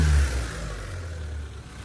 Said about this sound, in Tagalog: ang ingay naman ng makina, maingay, maingay.